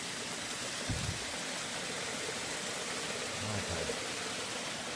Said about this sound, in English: I'm just trying to find where I hear the water.